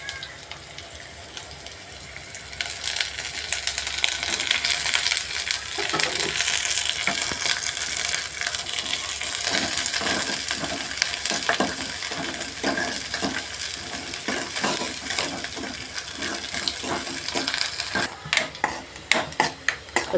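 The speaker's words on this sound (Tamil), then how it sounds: "இப்போ வெங்காயத்தை இதில் சேர்த்துக்கலாம். கிண்டிக்கலாம்." Chopped onions for a tempering sizzle loudly in hot oil for chicken kulambu, a steady broadband crackle joined by repeated scraping clicks of a spoon stirring through the pan, continuing close and alone without talk.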